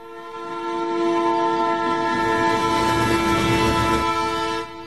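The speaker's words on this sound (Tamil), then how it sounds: "ஒரே ஒரு கூட்ஸ் இருக்குடா, அதுவும் இப்ப வர நேரம் தான்." A goods train rolls past in a Tamil film scene, its horn sounding in steady sustained tones over the rising rumble of wagons, swelling loud then cutting off near the end.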